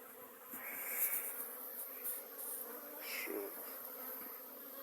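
Buckfast honeybees buzz around a two-box hive during a cleansing flight between cold and rainy spells, a faint steady hum with a few louder passes close by.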